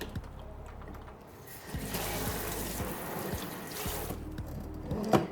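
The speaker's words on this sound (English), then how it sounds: "I spray down my slop sink and I just let the water run as hot as it possibly goes" Water at about 180 degrees runs hard from a tap into a slop sink, a steady splashing rush that swells and eases, with a sharp clatter near the end.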